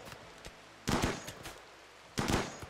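Gunfire in the RimWorld video game comes as two loud bursts of rapid shots, separated by a short pause, with quieter single pops in between.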